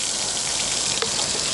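Water gushes under pressure into a car tire, a steady close rushing hiss that holds evenly throughout with a small bump partway.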